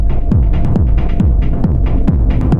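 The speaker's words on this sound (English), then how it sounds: "was going to be hats, but I detuned them and I made it sound almost more like a rim shot" Detuned drum machine hi-hats make clicky percussive hits that repeat in a steady pattern over a deep throbbing low pulse, like rim shots in an electronic beat.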